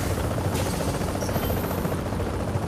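Helicopter in the video game The Division, a loud continuous rotor drone with dense rumbling thumps, steady and close throughout.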